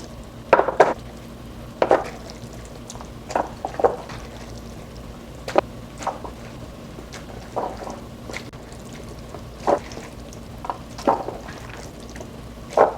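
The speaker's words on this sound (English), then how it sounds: "now I need to wash my serving spoon so I don't double dip into another dish" A serving spoon being washed by hand in a home kitchen, giving about a dozen short, separate clinks and scrapes of metal against dishes at fairly even intervals. They sit over a low steady hum of running water, with no talking.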